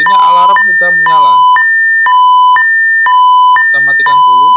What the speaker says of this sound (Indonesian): di sini alarm sudah menyala